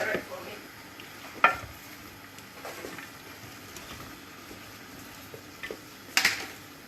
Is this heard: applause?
no